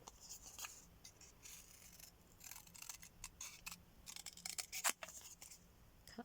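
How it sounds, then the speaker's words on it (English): Scissors snip a paper tag with quick, faint, irregular crisp cuts and light rustling, close by and without talk. "Cut this out really quickly."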